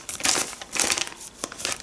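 A slightly torn plastic packet holding cycling gloves being handled, giving several close, loud bursts of crisp crinkling and crackling with short pauses between them, and no talk.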